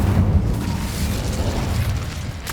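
An Incendio fire spell going off in Hogwarts Legacy, a loud, deep rumbling burst of flame that roars briefly and stays heavy through its short length.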